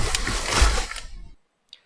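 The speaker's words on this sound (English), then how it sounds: "you can just hear Paul moving and very, very loud" Footsteps of the character Paul moving in the video game Petscop, amplified until very loud, form a dense, harsh noisy burst lasting over a second, then silence broken by one faint short tick.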